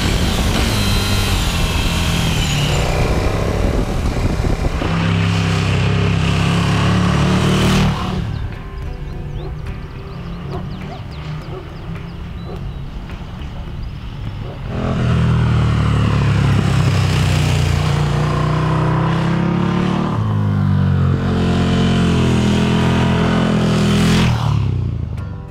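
A KTM 1290 Super Duke GT motorcycle ridden on twisty, steep mountain roads in Gran Canaria, its engine loud and close with repeated rising revs under acceleration, easing off between pulls, then winding up hard again.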